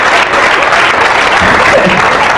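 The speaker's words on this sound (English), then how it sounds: "Married people, clap if you're married." A comedy club audience of married people bursts into applause, a loud, dense wash of clapping that holds steady from start to finish, with some crowd noise mixed in.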